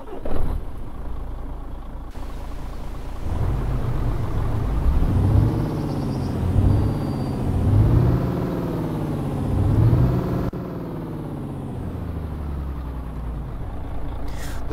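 Cummins engine fitted to a KamAZ 6460 dump truck in Euro Truck Simulator 2, a loud low rumbling drone that swells in several rev surges, with a hiss like an air brake at the start.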